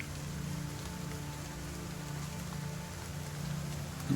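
Steady rain falling as an ambient bed beneath a tabletop role-playing game scene, a continuous soft hiss with a low rumble and no voices, swelling slightly near the end.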